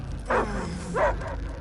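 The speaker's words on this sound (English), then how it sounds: "I hear only barking." A dog in the Guardians of the Galaxy video game gives two short barks about half a second apart, over a low steady background hum and no talking.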